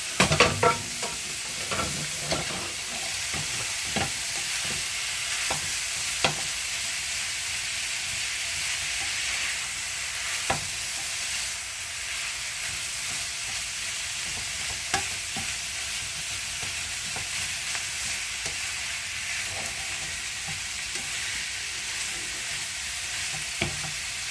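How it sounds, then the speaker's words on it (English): Ground beef and onions stirred in a hot pan while browning, a constant close sizzle and hiss with repeated scraping and stirring strokes scattered through it, no voices. "we're just going to start mixing the onions and the burger together as we're waiting for the burger to brown."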